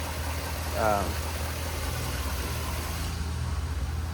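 A stock, unmodified Corvette engine idles quietly with a steady low rumble that holds even and unbroken throughout, heard up close with no exhaust roar.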